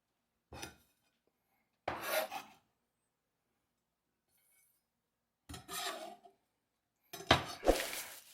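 A knife cuts pork on a board in four short scraping, rasping strokes separated by silence, each lasting under a second, close and fairly faint.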